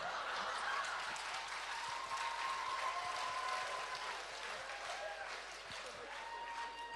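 A theatre audience at a televised comedy league match claps steadily and loudly for the full stretch, a dense, continuous wash of applause with a faint murmur of the crowd beneath it.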